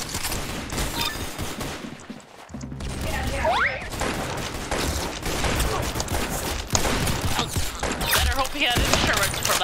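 Gunshots in the Roblox-style shooter Arsenal, dense rapid firing and crashing impacts packed throughout, loud and busy with a brief lull near the start.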